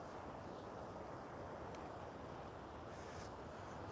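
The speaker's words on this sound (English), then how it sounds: "I know it's a little bit windy here, so I got the windsock on." Steady broadband wind rushing and buffeting a microphone fitted with a windsock on a beach at Cha-Am, Thailand, with a faint wash like surf in the background; no voices.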